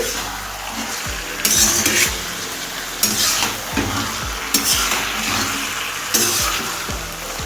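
Chicken pieces sizzle and fry on a high flame in an iron wok while being stirred, with four loud scraping strokes of a spatula rising over the steady crackle of hot oil; no voices.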